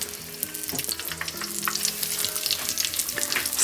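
Steady crackling sizzle of breaded chicken frying in hot oil in a pan, close and continuous, with occasional soft clinks and hum in the background.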